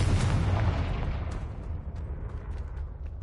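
A Confringo blasting spell erupts in a Hogwarts video game, one heavy booming explosion with a deep rumbling tail that slowly fades, heard alone.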